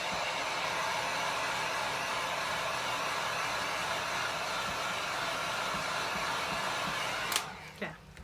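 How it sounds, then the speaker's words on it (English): A heat gun blows briefly over fresh epoxy on a galaxy tumbler: a steady, close broadband whoosh that holds for about seven seconds, then cuts off abruptly, leaving a short faint tail. "I'm going to hit it with a heat gun very, very briefly"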